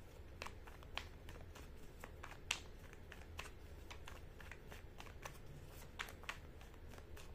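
Tarot cards being shuffled in quick riffling bursts with sharp flicks, steady and close, over a low background hum.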